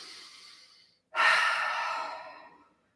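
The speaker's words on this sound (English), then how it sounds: "And just breathe big." A deep yoga breath during a pose: a soft drawn-out inhale fading away, a brief silence, then a loud, full exhale that tapers off slowly.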